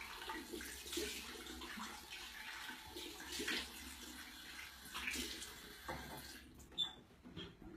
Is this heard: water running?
yes